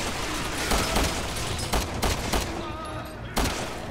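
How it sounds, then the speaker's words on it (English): Enemy gunfire in Resident Evil 6, a rapid fusillade of sharp shots cracking in bursts over a dense, steady background of game noise, with several louder individual reports spaced through. "Uh-oh, I'm getting shot at."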